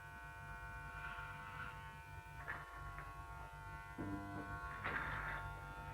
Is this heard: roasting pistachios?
no